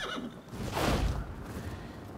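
A horse neighs in the Rise of the Ronin video game, a single clear whinny rising near the middle of the clip over steady game ambience, with no talk.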